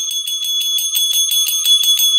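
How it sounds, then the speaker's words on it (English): A bell rings rapidly and repeatedly in a quick, even series of bright metallic strikes, like a bicycle bell, clear and close with no talking. "Why are you ringing a bell, Amy?"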